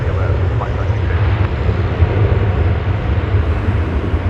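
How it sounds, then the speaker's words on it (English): Arriving airliner on the Indianapolis, Indiana flight landing at DFW Airport, a steady broadband jet roar with low rumble holding at a constant level throughout, with voices talking faintly underneath. "Want to catch that arriving flight from Indianapolis"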